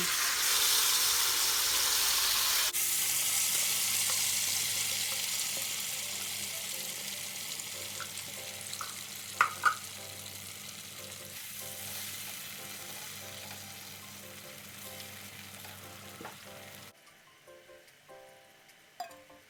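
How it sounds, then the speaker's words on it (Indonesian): Ground spice paste sizzles and fries steadily in a little cooking oil in a pan, a continuous close crackle with occasional stirring clinks, then it drops away near the end. "Sisakan sedikit minyak untuk menumis bumbu yang sudah dihaluskan."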